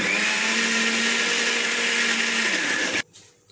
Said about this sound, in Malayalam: ഇതിനെ ഒന്ന് ഗ്രൈൻഡ് ചെയ്തെടുക്കാം.